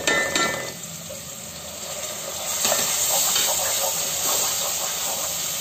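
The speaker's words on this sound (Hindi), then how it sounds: "अब इसमें अदरक लहसुन नमक मिर्ची सब डाल देंगे।" Raw onion with ginger, garlic, salt and chilli frying in a pan makes a loud, continuous sizzle and hiss, with stirring clatter near the start and the sizzle building a little later.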